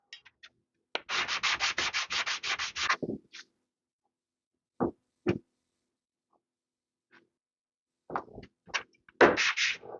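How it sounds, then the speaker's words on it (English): Model O and On30 railway track ties are rubbed with 180 grit sandpaper: a rapid run of about a dozen rasping back-and-forth strokes, then isolated scrapes and a final brief burst of sanding, close and clear in a quiet room. "I use 180 grit sandpaper."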